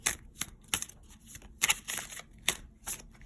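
Tarot cards are shuffled by hand in quick bursts, a series of crisp riffling snaps close up with short pauses between them and no talking.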